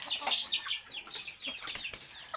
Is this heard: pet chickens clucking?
yes